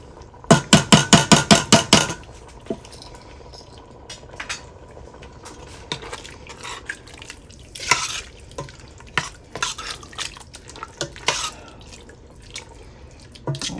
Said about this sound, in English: we're going to add one 15-ounce can also of the diced tomatoes